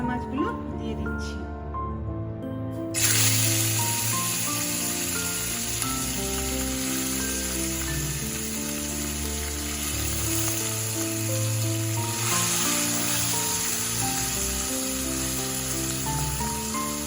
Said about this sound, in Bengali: এবারে আমি মোরলা মাছগুলো দিয়ে দিচ্ছি।